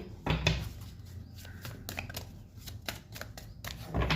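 Tarot cards are shuffled and handled close up in a row of soft, brisk riffling and slapping bursts, fairly quiet, with no talking.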